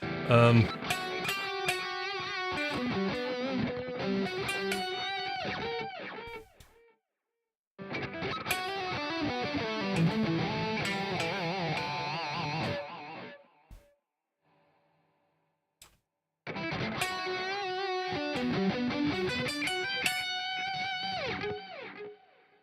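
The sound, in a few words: electric guitar with delay and reverb effects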